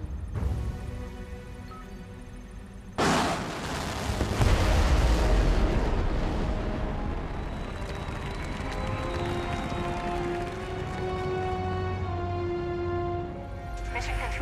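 Rocket launch erupting in a sudden loud roaring blast that swells into a broad, sustained rumble and crackle, then slowly thins out, with a voice speaking faintly over it.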